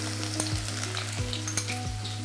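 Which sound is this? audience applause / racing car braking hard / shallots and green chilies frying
shallots and green chilies frying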